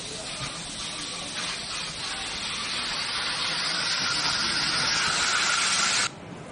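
A steady, loud hiss of fire hoses spraying water onto a burning house runs for several seconds without pause, then drops off abruptly near the end.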